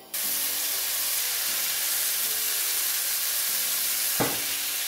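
Beef skewers sizzle in a hot frying pan, a loud, continuous crackling hiss that starts abruptly as the meat goes in, with a brief clatter near the end and no voices.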